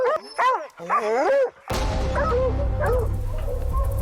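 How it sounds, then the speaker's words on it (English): Hunting hounds bay and yelp excitedly in thick brush, a run of close, wavering howls and barks followed by a dense, rumbling rush of movement with further calls echoing underneath. "listening for the echoes of the hound's howls."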